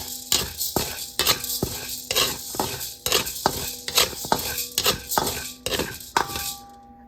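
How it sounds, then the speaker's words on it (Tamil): Chana dal dry-roasting in a pan for sambar powder, stirred with quick, regular scraping strokes about twice a second. The strokes sound close and crisp over a faint sizzle, with a steady background tone and no talking. "இப்போ கடலை பருப்பும் போட்டு வறுக்கலாம்."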